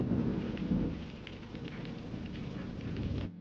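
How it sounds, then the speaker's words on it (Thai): Heavy rain pours continuously with low thunder rumbling underneath, a dense, unbroken wash of sound. "เห็นฝนตกอย่างหนัก"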